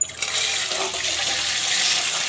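A steady rush of water streams into a container, full and close, without pause.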